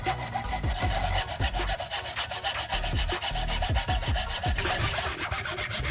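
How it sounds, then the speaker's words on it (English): A hand saw cuts through a piece of wood clamped in a vise, producing steady back-and-forth rasping strokes in a quick, even rhythm, close and fairly loud, with no talking. "I set the piece of wood onto the vise to secure it, then aligned the saw blade precisely with the marked line."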